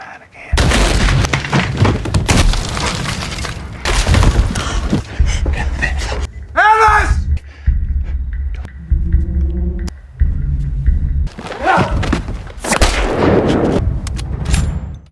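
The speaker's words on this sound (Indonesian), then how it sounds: "Tiba-tiba sebuah peluru mengarah ke kamar Alice. Rumah Alice berubah menjadi taman menembak." Film gunfire striking a house, heavy booming shots and rumbling bursts that fill most of the stretch, loud and close, with a narrator talking over the action.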